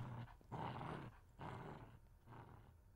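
A pit bull growls low and menacingly in three rumbling bursts separated by short pauses, close and alone, as a sound effect in an audiobook.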